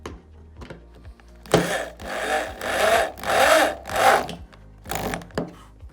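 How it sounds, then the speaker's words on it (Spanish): Screws driven in while assembling an IKEA IDÅSEN desk, several loud whirring bursts from a powered driver, each a second or so long, close up with brief pauses between. "empezamos a atornillar."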